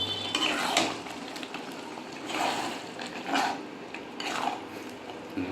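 A spoon stirs masoor dal with boiled potato in a pan, scraping and clinking against the metal in several rhythmic bursts over a low, steady background bubbling.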